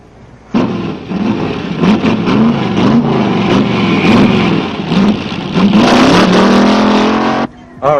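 A car approaches and roars past close by, its engine revving and rising then falling in pitch across several seconds before cutting off abruptly.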